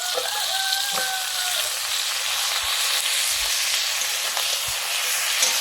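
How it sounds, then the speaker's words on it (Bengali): Vegetables with whole cumin frying in a pan, a steady, close, loud sizzle with occasional soft knocks, with no speech. "একেবারে সবজিগুলো ভেজে নিচ্ছি"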